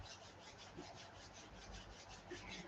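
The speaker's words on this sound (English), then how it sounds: "We're going to rub the hands together." Palms rubbed briskly together during a yoga session make a steady, soft, continuous friction swish with no speech over it.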